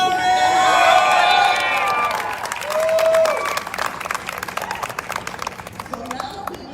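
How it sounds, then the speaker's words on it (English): A crowd at a press conference and march breaks into applause with cheers and whoops, the clapping thinning out into scattered claps toward the end. "But please give an applause to Lori Posada."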